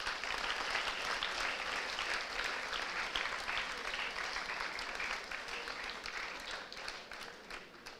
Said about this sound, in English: Applause once again.